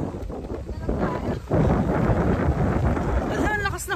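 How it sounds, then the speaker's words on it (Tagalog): Strong wind buffets the microphone in heavy, rumbling gusts at Tiboy, with voices faintly talking underneath. "Ayan, lakas ng hangin."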